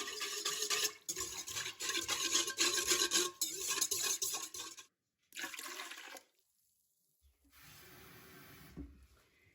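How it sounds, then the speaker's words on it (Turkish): Yeast, warm water, salt and sugar whisked together for simit dough make a close, brisk swishing and sloshing in a bowl in several bursts, with a short pause and a quieter stretch at the end. "Maya ve ılık su. Burada da tuz ve şeker var. Bunları bir çırpacağım."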